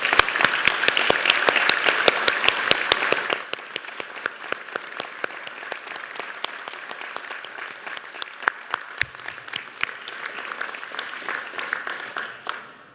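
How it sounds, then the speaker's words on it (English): Audience applause at a University of Newcastle graduation ceremony: a full, loud burst of clapping from a large crowd that drops after three seconds to thinner, scattered claps continuing until the end. "Please join me in applauding the wonderful achievements of our graduates."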